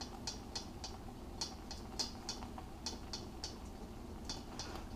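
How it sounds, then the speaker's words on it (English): A big baker's whisk beats a frothy honey mixture in a bowl, giving quick, bright ticking clicks against the bowl in uneven bursts, close and moderately loud, with no talking. "I'm using a big old baker's whisk here"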